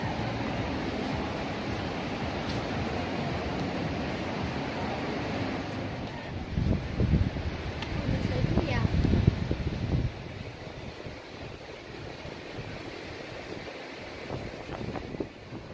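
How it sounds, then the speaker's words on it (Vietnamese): Sea waves and gusting wind roll continuously at the shoreline of Chi Linh beach in Vung Tau, with the surf swelling louder midway through. "Biển ngoài kia sóng rợn ra khá nhiều ha"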